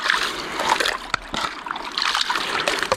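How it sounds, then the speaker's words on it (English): Water splashing and trickling by hand into a gold pan holding river gravel on a Wicklow gravel bar, a steady close wet pouring with several sharper splashes throughout. "I'll just put water in by hand with the trail"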